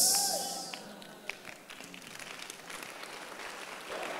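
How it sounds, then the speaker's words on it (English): Scattered clapping from a church congregation during a service, fading from a louder start into thinner, uneven claps with occasional sharp taps and murmuring voices underneath. "stop clapping"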